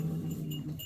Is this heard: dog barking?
yes